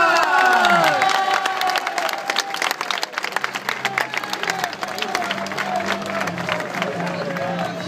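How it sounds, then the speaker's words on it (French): Fans at an open day for the Sporting Charleroi football club clap and cheer as a player is introduced, with children's shouts and excited voices rising over dense applause, plus a low drone entering partway through. "Applaudissements pour Francis Nganga."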